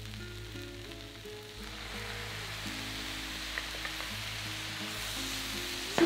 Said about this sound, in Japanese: 水に顆粒だし、みりん、醤油、塩を加えて混ぜてフライパンに加えていきます。